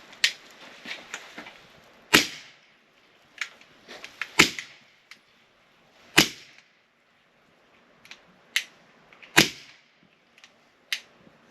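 A semi-automatic .22 PCP air rifle, an AEA HP SS, fires several sharp, close cracks at irregular intervals, with softer mechanical clicks and handling taps between shots.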